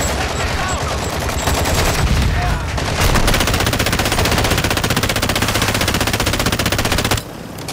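Sustained automatic gunfire rattles in Call of Duty: Modern Warfare II, rapid close bursts of shots running almost continuously, then cutting off abruptly near the end.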